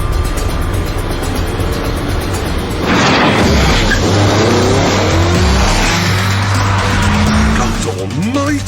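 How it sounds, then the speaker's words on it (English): A Tesla electric sports car and a petrol-powered Lotus Elise launch in a drag race, a loud, roaring engine surge building and holding with tire and wind noise, close and continuous throughout. "lined it up alongside a normal petrol-powered Elise, and now we shall see which is the fastest in a drag race"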